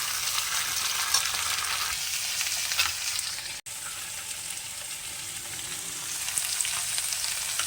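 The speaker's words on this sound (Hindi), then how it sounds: "तो उस तरीके से हम इसे डाल लेंगे और इसे फ्राई करने स्टार्ट करेंगे।" Pieces of jackfruit fry in oil in a pan, giving a steady close sizzle with occasional stirring and a brief drop in the middle, and no talking.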